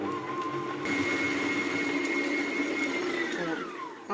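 Electric mixer whirring through butter, icing sugar and egg for a sable almond dough, a steady close motor whine that rises in pitch and then winds down at the end, with no talking.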